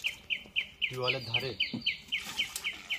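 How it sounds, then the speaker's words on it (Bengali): Birds of several species call in a Sundarbans mangrove forest, a steady run of bright, evenly spaced chirps repeating through the clip, with someone speaking briefly over the middle. "আর সেই সাথে সাথে বিভিন্ন প্রজাতির পাখির ডাক,"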